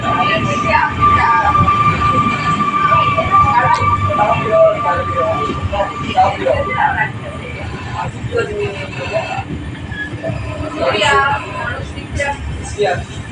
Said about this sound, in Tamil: நம்ம ட்ரெயின் வந்து பிளாட்ஃபார்ம் 2ல வந்து அரைவ் ஆயிருக்கு.